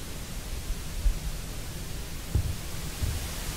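Hissing TV static in a horror video game, a steady broadband noise wash that holds at an even level throughout, broken only by a few soft low thumps.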